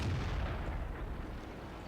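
A single heavy tank cannon shot in World of Tanks, a deep booming blast that rolls away over about two seconds, loud and alone.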